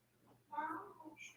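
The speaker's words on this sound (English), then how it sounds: "Oh, the cat's meowing?" A house cat meows indoors in one drawn-out, fairly close cry, followed by a softer, higher chirp, over faint room noise.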